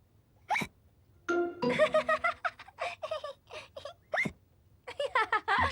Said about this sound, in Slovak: George vypil džús príliš rýchlo a teraz štikúta.